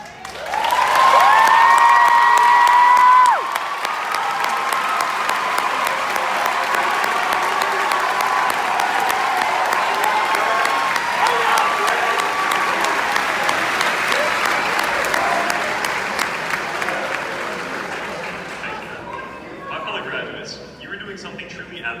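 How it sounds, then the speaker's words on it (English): A high school graduation audience applauds at length, a dense wash of clapping that stays steady and fairly loud for about twenty seconds before tapering off, with a tonal sound and a voice briefly over it at the start. "two very special groups of people deserve their own round of applause"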